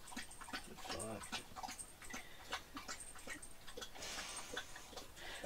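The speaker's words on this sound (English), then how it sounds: "the dogs just like decide to have a drink then" Dogs lap water outdoors beside a forest trail near an abandoned RAF base, a steady stream of quiet wet lapping and slurping clicks running throughout, close to the microphone with some rustling around it.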